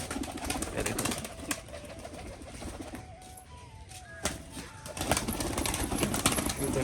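A tumbler pigeon coos close by, with bursts of wing fluttering as it readies to take off, its soft calls repeating between the flaps.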